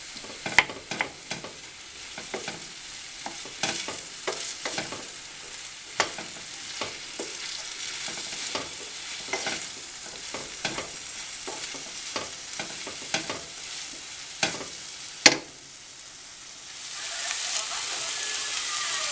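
Sliced bell peppers and onions fry in a pan, a steady close sizzle broken by repeated scraping strokes of stirring throughout, with a sharp knock near the end before the frying hiss swells louder and brighter.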